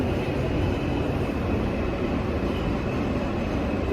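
A crowded New York subway train heading to Jackson Heights: a loud, continuous rumble and rattle of the car on the rails, with nobody speaking nearby.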